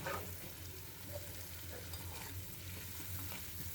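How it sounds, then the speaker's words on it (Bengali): An egg fries in a pan and is stirred until reddish-brown, with a soft, steady sizzle and light scraping strokes throughout. "একটু লাল লাল করে ভেজে নেব।"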